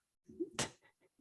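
A single sharp sneeze bursts out close to the microphone in a quiet room, preceded by a short inhaled breath and followed by faint murmurs.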